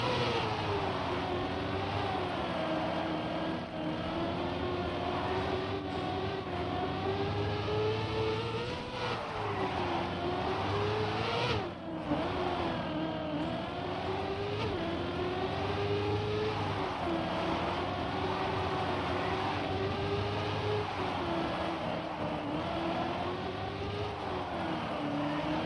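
Car engines drone and whine continuously in a video game, rising and falling in pitch over a long stretch with occasional tyre skids, mostly steady and moderately loud with no talk.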